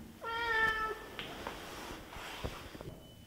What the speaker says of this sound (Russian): А у нас сегодня кошка родила вчера котят.